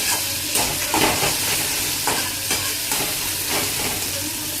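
Onions frying in a pan, a loud continuous sizzle close up with rhythmic stirring scrapes recurring roughly every second.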